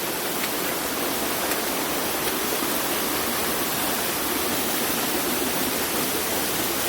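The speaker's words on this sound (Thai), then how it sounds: "เป็นน้ำย้อยลงมาจากหินนะครับ" Steady broadband rush of water trickling down from rocks in a forest, continuous and even throughout with no voices.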